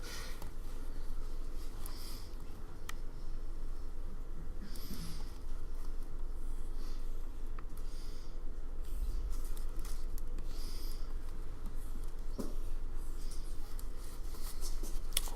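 A pen drawing on graph paper, soft faint scratching strokes in short bursts against a quiet room background, no talk over it.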